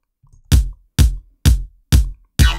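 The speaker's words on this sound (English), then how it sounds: "there's a percussion loop here" An unfiltered percussion loop plays alone in a mix: five evenly spaced, punchy drum hits about half a second apart, each with a sharp attack and quick decay, loud and close.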